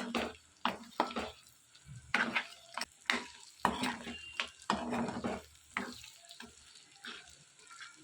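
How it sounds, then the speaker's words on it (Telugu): Chicken pieces for pickle fry with ginger-garlic paste in a pan, with irregular loud scraping strokes of a spatula over a softer underlying sizzle, close and with no talk. "ఇందులోనే ఫ్రై చేసి పక్కన పెట్టుకున్న చికెన్ ముక్కలన్నీ కూడా వేసుకోవాలి వేసుకుని ఇవి కూడా కొద్దిసేపు ఫ్రై చేసుకోవాలి"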